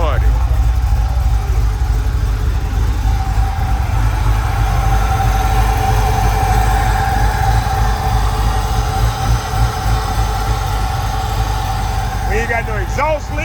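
A 1988 Chevy with an LS 408 stroker engine idles loud and close with a deep, steady low rumble, while people talk nearby.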